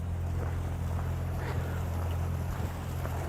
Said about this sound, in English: this water stream, you can see, it's coming directly up from the mountain